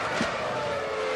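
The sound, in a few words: Formula 1 race car on track, Hungarian Grand Prix 2001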